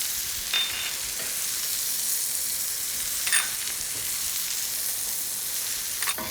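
Garam masala, coriander and cumin frying in a hot pan, a steady hissing sizzle with a few sharper crackles and stirring scrapes, close and alone without talk.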